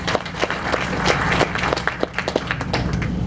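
An audience claps and applauds together at a formal oration held by a medical college alumni association. The crowded, continuous patter of hands has sharper individual claps standing out through it.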